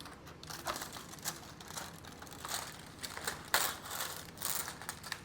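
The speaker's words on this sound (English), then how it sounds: "peel back film and replace lightly over turkey vegetables" Plastic film peels back from a ready-meal tray of roast turkey and vegetables, giving quiet, intermittent crinkles and crackles close by with short pauses between pulls.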